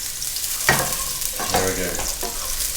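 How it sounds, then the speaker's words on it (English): Shallot sizzling in a generous amount of olive oil in a pan, a steady close frying hiss broken by a few sharp scraping stirs of the utensil. "I'm going to put my shallot in, okay, and stir that around."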